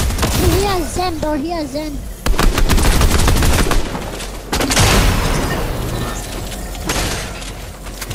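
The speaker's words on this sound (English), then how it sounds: "he's shooting so fast" Rapid bursts of automatic gunfire from a player facing a fast-shooting hacker in an online shooter, loud and dense, with mechanical clatter, under excited overlapping voices.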